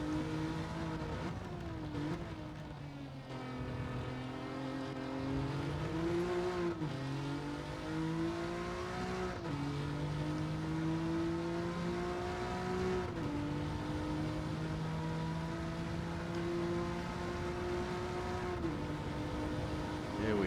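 Alfa Romeo Giulia GTAm race car in Gran Turismo 7 braking and coasting on a Le Mans circuit, its engine tone dropping and then holding a steady hum with gear-linked pitch shifts, moderately quiet and continuous.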